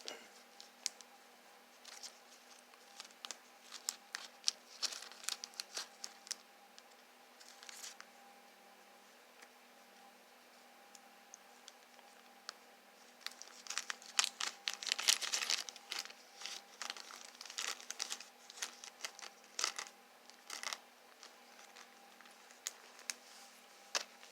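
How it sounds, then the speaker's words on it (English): Intermittent plastic bag crinkling and rustling nearby as Marx New Haven toy engine parts are unwrapped, quiet stretches broken by bursts of handling, busiest in the middle, with a faint steady hum underneath. "If I can get them out of the plastic bag."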